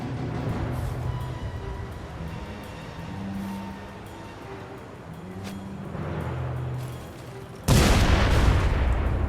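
Video game explosions at a chemical factory in The Saboteur: rumbling booms and muffled blasts roll through a low, noisy din, followed by a sudden loud burst of harsh noise near the end.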